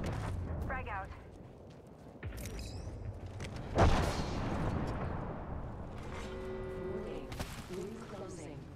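A frag grenade goes off in an Apex Legends match, one sharp loud blast followed by a rumbling tail, with other game sounds and mechanical clatter before and after.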